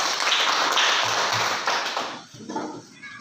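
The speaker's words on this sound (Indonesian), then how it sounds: "Tepuk tangan untuk kelompok 2." Classroom applause for a student presentation group, a dense burst of many hands clapping that starts loud and thins out toward the end.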